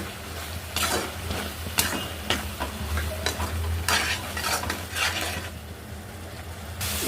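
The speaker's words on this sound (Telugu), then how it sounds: "బాగా కలపాలి." Vegetable rice curry is stirred and mixed in a pan, with rapid repeated scraping strokes over a steady low sizzle and hum, loud and close, with no talk.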